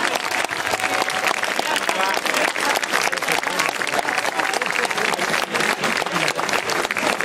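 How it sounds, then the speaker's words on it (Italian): Steady, dense applause from an audience at a local beauty pageant, Miss Meliga 2013, sustained and fairly loud throughout, with voices mixed faintly into the crowd noise. "Un applauso alla vincitrice di Miss Melica 2013"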